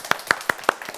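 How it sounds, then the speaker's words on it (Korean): A handful of students clap sparsely in a real-estate tax law lecture, about six crisp, separate hand claps spaced evenly and close by, with no talking. "박수는 참 아직 들어도 아직 어색해요."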